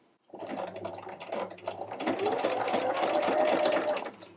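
A sewing machine sews microsuede fabric without backstitching, starting up after a brief quiet moment and building into a steady, close whirring run that lasts nearly four seconds.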